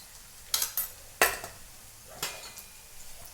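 Cumin seeds hit hot fried onions in a pan, with a quiet steady sizzle broken by several sharp clinks and scrapes of a spoon against the metal pan, close and fairly soft.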